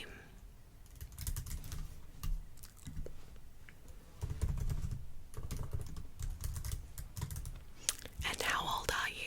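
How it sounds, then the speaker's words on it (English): Fingers tap a computer keyboard up close as login details go in, the soft clicks coming in uneven bursts and pauses, with quiet whispering and mouth sounds around them. "Let me just type in my login details."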